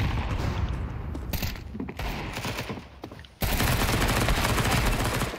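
Rapid bursts of M4 rifle fire in Counter-Strike 2, a dense fusillade of close, loud shots that thins out briefly, then resumes even heavier and continuous in the second half.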